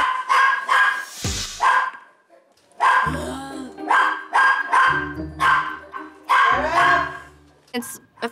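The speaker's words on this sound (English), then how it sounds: "the dogs wake me up at like 7 in the morning" Dogs bark in loud, close bursts inside a newly moved-into house, repeating in uneven clusters of several barks with short pauses between them.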